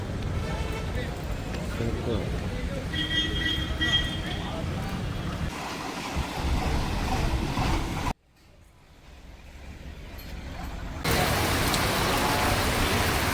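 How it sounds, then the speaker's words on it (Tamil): Rain falls during a bus journey in Kerala as a steady, loud hiss with low rumble. The sound drops out abruptly partway through, then builds back to full strength. "அதுக்கிடையில் மழை பாருங்க"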